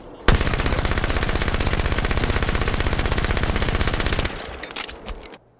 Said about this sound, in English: I can just shoot the audio log with any weapon